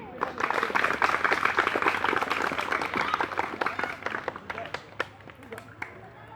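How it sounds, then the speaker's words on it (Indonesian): A school audience at an elementary school in Timika applauds in a burst of many hands clapping, loud at first and then thinning into scattered claps as it dies down. "Tepuk tangan dulu."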